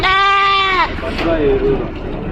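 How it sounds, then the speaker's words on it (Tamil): Goat bleating at a livestock market, one long wavering harmonic call up close followed by a shorter second bleat, with background crowd chatter and talk. "ஆட்டோட குட்டி அங்க இருக்கு."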